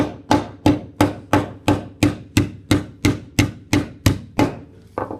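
Steady, evenly spaced rawhide mallet blows on sheet metal, about a dozen sharp hits in a row, close and loud, with no talking.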